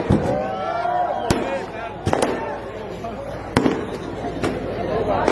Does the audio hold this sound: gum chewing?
no